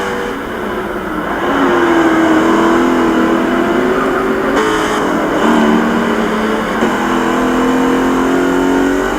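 A muscle car accelerates hard down a race track straight as it pulls away from a Corvette, its engine a loud, close, sustained roar with a rising and shifting pitch and no voices.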